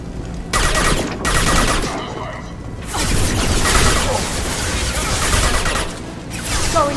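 Mercenary gunfire in Mass Effect 2, Blue Suns and Vorcha troops shooting in a combat zone: dense bursts of automatic fire and booming impacts, loud and near, with short lulls and a voice speaking over parts of it.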